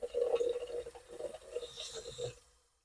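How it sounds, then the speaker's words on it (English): Water runs from a bathroom sink tap fed by a tankless water heater, a steady close splashing stream that swells and eases with the pressure before cutting off near the end. "I want you to be able to hear how much water pressure I've got going."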